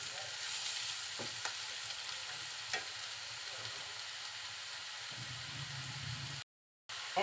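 Sliced potatoes fry over low heat in a pan for a Bengali hotel-style aloo bhaji, a soft, continuous sizzle with occasional stirring scrapes, fairly quiet and close, briefly cutting to silence near the end.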